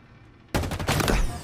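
Sniper gunfire in a video game: quiet game ambience, then an abrupt loud shot at half a second followed by a burst of rapid crackling reports and a sustained rumbling tail, with no talk.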